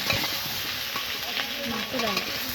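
Rohu fish pieces, potatoes and eggplant fry in hot oil, a steady dense sizzle with close stirring and scraping throughout.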